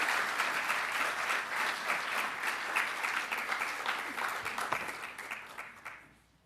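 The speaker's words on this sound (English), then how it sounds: "You can clap now" A school audience at a high school student awards ceremony claps in steady, full applause that carries on for several seconds, then tapers off and fades out at the end.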